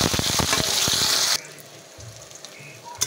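Slices of tender home-grown eggplant go into hot oil in a pan after potatoes were fried, a loud bubbling sizzle for over a second that then settles into quieter crackling with a few pops.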